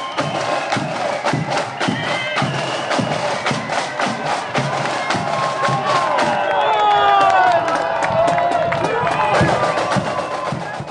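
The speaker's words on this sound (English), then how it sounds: "Pride of Ardoyne is getting a huge reception." A large crowd cheers, whoops and shouts as the Pride of Ardoyne marching band returns into town during the Twelfth parades in Northern Ireland, a dense, continuous roar of many voices with whistles and yells rising louder toward the middle.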